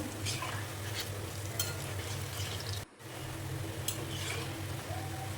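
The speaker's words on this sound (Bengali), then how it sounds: "তারপর এটাকে মিডিয়াম আছে নেড়ে চেড়ে ভাজতে থাকবো" Palm fruit fritters (taler bora) frying in oil and being stirred, a soft continuous sizzle with occasional light scrapes, with a brief dropout midway and a low background hum throughout.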